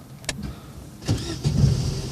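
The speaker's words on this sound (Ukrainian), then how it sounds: "і заводим машину" A manual-transmission car's engine starts from inside the cabin: a quiet moment, then a short starter crank about halfway through that catches into a close, steady running engine, with no talking.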